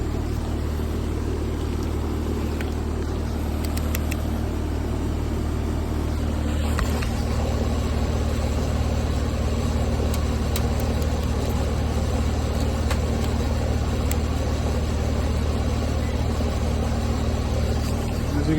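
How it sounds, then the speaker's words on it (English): An HVAC air conditioner compressor kicks on and runs, giving a loud, steady, continuous mechanical drone with a constant low rumble, heard up close with no voices over it. "There you go, compressor came on."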